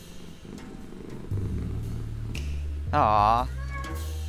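A cat in the Lone Survivor video game purrs with a low rumble, then lets out a clear rising meow, with a person talking briefly over the purr.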